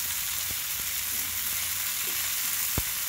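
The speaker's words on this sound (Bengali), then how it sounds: "এভাবে বারবার উল্টিয়ে পাল্টিয়ে আমরা ভেজে নেব।" Eggplant slices frying in mustard oil in a pan, a steady close hiss of sizzling with a few soft knocks as the slices are turned.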